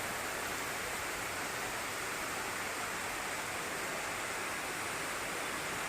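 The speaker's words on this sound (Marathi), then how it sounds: "हे बघा किती मोठा पाऊस जोराचा झालेला आहे." Heavy rain pours down over farm fields in a dense, steady roar of broadband hiss, loud and unbroken, with no voices or other distinct sounds standing out.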